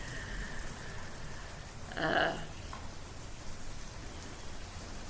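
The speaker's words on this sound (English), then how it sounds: "like it's raining hardcore" Heavy rain pours steadily outdoors as a constant broadband hiss, with a brief louder splash or gust in the middle.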